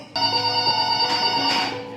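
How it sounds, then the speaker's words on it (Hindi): A phone plays a loud, sustained musical ringtone with steady tones that starts suddenly and continues throughout, with no speech. "देख शायद भैया जी का फोन आया है"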